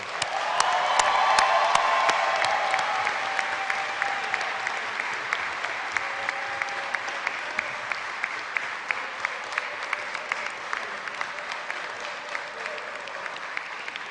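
Sustained applause from a graduation audience in Caird Hall, filling the room loudly at first and then thinning gradually to scattered claps, with faint cheers and whoops early on.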